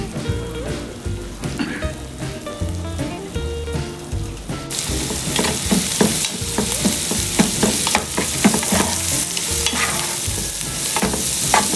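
Chopped onions with salt sizzle and crackle in a hot pan, a loud steady frying hiss that jumps brighter partway through, broken by scraping stirs of a spoon, with no talking.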